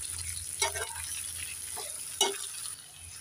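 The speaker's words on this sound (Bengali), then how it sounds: "1 মিনিট নেড়ে চেড়ে ভেজে নিয়েছি।" Dried fish, boiled flat beans and coriander fry in a pan with a soft, steady sizzle, broken by a couple of brief scraping stirs of a spatula.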